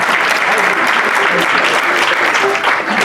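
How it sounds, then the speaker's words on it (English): Members at a Rotary club meeting clapping together, a loud, sustained burst of applause filling the room, with some voices murmuring beneath it. "give Chris a round of applause"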